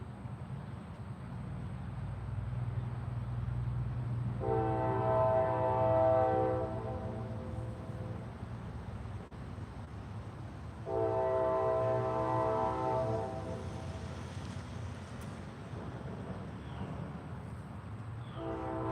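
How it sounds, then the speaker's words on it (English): A train horn sounds twice from a distance, two long sustained blasts separated by a pause, over a low rumble of rolling rail cars. "the train over here trying to honk the horn at me"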